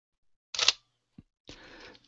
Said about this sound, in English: the click is the closing of the shutter at the end of the exposure, not at the beginning